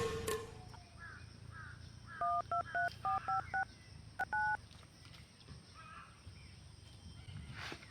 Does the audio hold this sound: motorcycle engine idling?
no